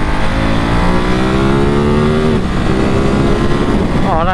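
A new Ducati Monster 937 motorcycle drops down through its gears on an open road, the engine note loud and close with a steady drone that dips and shifts pitch at each downshift.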